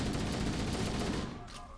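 Gunfire in the shooter Halo: Combat Evolved, a rapid burst of loud close shots that fades within a second or two.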